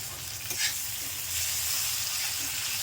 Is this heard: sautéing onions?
yes